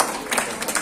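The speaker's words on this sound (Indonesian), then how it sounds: "kita berikan sekali lagi tepuk tangan Bapak dan Ibu." Ceremony audience applauding during a tumpeng-cutting at an installation event for LADISNU, HISNU and P3MI, a dense wash of many hands clapping at steady volume through the short moment, with no voices on top.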